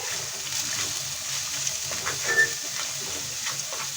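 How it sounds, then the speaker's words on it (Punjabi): Chopped onions added to garlic and ginger frying in a pan, a steady hiss of oil with light sizzling and occasional soft stirring scrapes, close and continuous without talk. "ਹੁਣ ਆਪਾਂ ਇਹਦੇ ਵਿੱਚ ਕੱਟੇ ਹੋਏ ਪਿਆਜ਼ ਐਡ ਕਰਾਂਗੇ ਇਹਨਾਂ ਨੂੰ ਚੰਗੀ ਤਰ੍ਹਾਂ ਮਿਕਸ ਕਰ ਦਾਂਗੇ"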